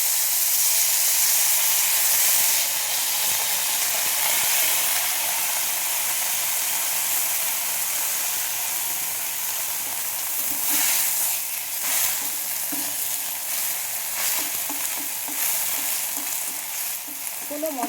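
Fresh spinach hits a hot pan and sizzles loudly and continuously, with stirring scrapes and shuffles breaking through the steady frying hiss, and no voices.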